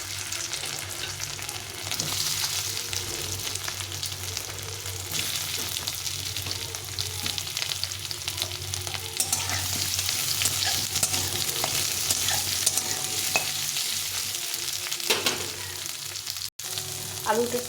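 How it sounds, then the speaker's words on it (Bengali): Potatoes lightly frying in a pan for a chickpea and potato dish, a continuous soft sizzle with occasional stirring scrapes, moderately quiet and steady throughout, with no talking. "এখন আমি এই আলুগুলোকে একটু ভেজে নেব হালকা করে।"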